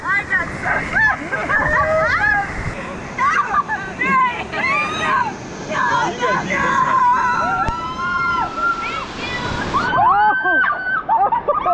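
Water rushes and splashes heavily from a theme park ride's waterfall at Silverwood Theme Park in Athol, Idaho, while riders nearby shout, scream and chatter excitedly.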